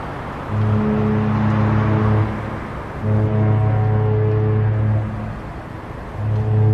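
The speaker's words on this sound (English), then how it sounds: "Those three honks mean I am going astern." Three long, deep cruise ship horn blasts sound in sequence, signalling going astern, each lasting over a second with short gaps between, loud and resonant over a low background rumble, at the Port of Southampton.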